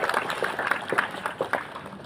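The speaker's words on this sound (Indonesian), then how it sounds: "Tepuk tangan sekali lagi untuk ibu kita tercinta." Audience applause at a school farewell ceremony for a retiring teacher at SMA Negeri 1 Cibeber, heard as a moderate, steady stretch of scattered clapping from a hall crowd.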